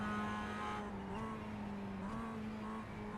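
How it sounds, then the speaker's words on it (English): Mazda MX5 race car engine during practice at Phillip Island, a steady droning tone that shifts pitch as it downshifts to fifth gear, heard quietly from onboard. "I'm downshifting to 5th for turn 1."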